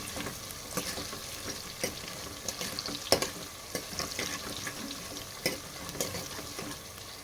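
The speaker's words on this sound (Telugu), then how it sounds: "ఆనియన్ని ఫ్రై చేసుకోవాలి ఒక రెండు నిమిషాలు" Chopped onions frying in a pan for tomato dal, with a steady quiet sizzle and frequent light clicks and scrapes as they are stirred.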